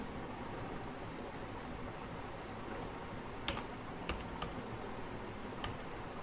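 Faint, sparse keystrokes click on a computer keyboard while a salary slip is being typed up, a few quiet isolated taps over soft background hiss.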